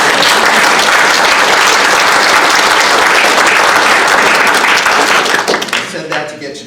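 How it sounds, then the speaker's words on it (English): Audience applause at a convention panel about bringing Gargoyles to the screen: a large crowd claps loudly and steadily for several seconds, then the clapping thins and fades out at the end. "I said that to get you to clap so I'd have time to drink with us."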